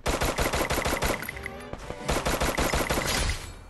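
Gunfire in Garena Free Fire, steady rapid automatic bursts of shots in a fast, even rhythm, loud and close, with a brief pause midway before the firing resumes.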